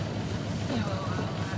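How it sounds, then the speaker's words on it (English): A sailing yacht's engine idles steadily off Carrickfergus, Northern Ireland, a low continuous drone mixed with wind and water noise, with no talk over it. "We never stopped the engine actually, but we'll just leave it running."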